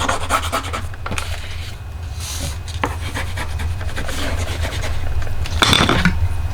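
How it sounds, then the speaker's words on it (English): A bone folder or tool burnishing down a paper fold on a handmade slimline envelope, giving soft rubbing and rasping strokes close up over a steady low background hum, with a firmer scrape near the end. "And I'm going to burnish this down."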